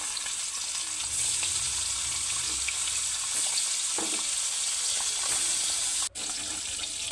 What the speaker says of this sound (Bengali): তেলটা গরম হয়ে গেলে মাছগুলোকে ভেজে নেব।